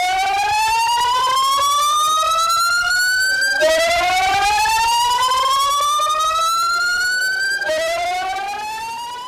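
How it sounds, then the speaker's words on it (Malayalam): A disaster management authority siren wails in Thiruvananthapuram, Kerala, during a heavy-rain alert: three long rising sweeps, loud and steady, each dropping back and climbing again, with no voices. "തിരുവനന്തപുരത്ത് ദുരന്ത നിവാരണ അതോറിറ്റി സൈറൺ മുഴക്കി"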